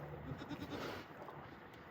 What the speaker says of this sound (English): We got a little baby goat here.